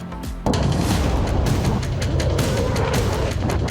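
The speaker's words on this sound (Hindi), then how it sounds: "जो धमाकों की आवाज वहां सुनाई दे रही है वो कम होने का नाम नहीं लेने वाली" Heavy booming blasts and rumbling from a war zone in the Middle East, with a sudden loud onset after a quieter start and then a continuous dense roar of impacts and crackling.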